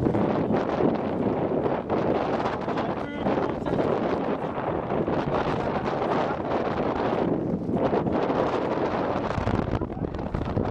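Strong, gusty wind buffets the microphone at a kite festival in Araçatuba, Brazil, a constant loud rumble and rustle with faint voices buried underneath.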